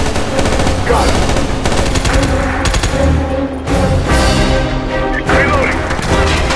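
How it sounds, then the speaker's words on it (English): Loud, sustained automatic gunfire from the video game SOCOM: U.S. Navy SEALs Fireteam Bravo 3 rattles almost without pause, in dense bursts with brief gaps and heavy impacts. "Returning enemy fire."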